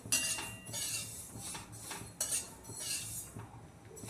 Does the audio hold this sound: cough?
no